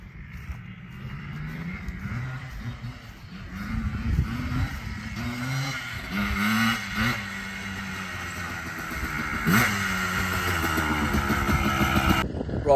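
A Yamaha Blaster two-stroke motorbike engine runs and revs repeatedly with rising and falling buzzy pitch, fairly close and continuous throughout.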